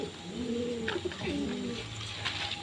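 Pigeons coo in low, rolling calls while being fed grain in the afternoon, close and continuous over a busy background.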